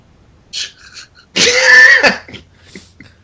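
A single loud, sharp sneeze-like burst lasting under a second, preceded by a few faint breathy sounds and followed by quiet.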